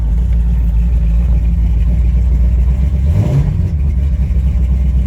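A 1974 Plymouth 'Cuda with a 360 V8 and rally dash rumbles steadily at close range, its low exhaust note swelling briefly in a short rev before settling back to a loud idle.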